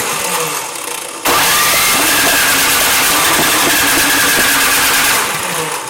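A small snow blower engine fires and runs close by at a loud, steady pitch. It holds for several seconds before easing slightly toward the end.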